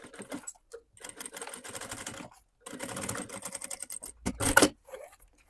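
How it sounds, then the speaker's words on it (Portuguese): A sewing machine runs in several short bursts of rapid, even stitching, topstitching a seam along the gusset of a synthetic-leather bag, close and fairly quiet, with brief pauses and a sharper clunk near the end. "vamos fazer um pesponto aqui, tá? Vai rebater a nossa costura junto ao nosso fole."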